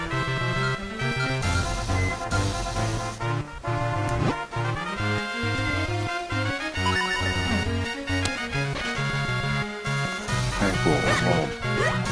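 Chiptune game music plays continuously while a small dog's bark sound effect yips repeatedly over it, in Zelda: The Minish Cap.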